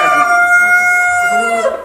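A rooster crows once, loud and close, a single drawn-out harmonic call on a poultry farm of large tiger-breed chickens.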